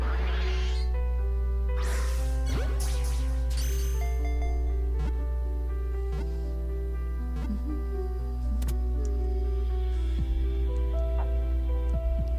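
A pet cat meowing several times, its cries rising over steady electronic music from a Pokémon game running in the background.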